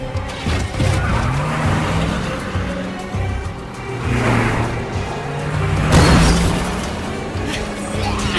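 Military truck engine in a zombie video game revving and pulling away, with a tire squeal and a loud surge near the end, mixed with other game sounds.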